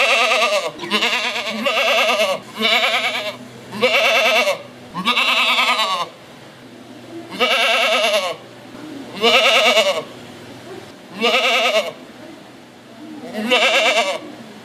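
A goat bleats about eight times in a steady series of loud, wavering, nasal cries, each about a second long and separated by short pauses.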